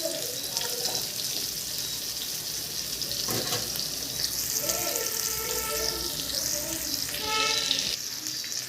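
Fish fries in a pan with a steady bright sizzle. Some watery splashing and clinking are mixed in, and background sounds with faint melodic tones drift underneath.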